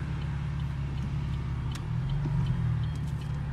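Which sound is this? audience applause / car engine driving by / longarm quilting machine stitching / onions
car engine driving by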